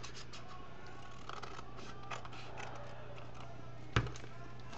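Scissors snip a small piece off a paper envelope, mostly quiet faint rustling of paper under a steady hum, then a single sharp cut near the end.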